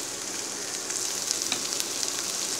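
Small onions frying with a little salt in a pan for a dried fish and mango tamarind curry, giving a close, steady hiss with light crackles sprinkled through it and no voices.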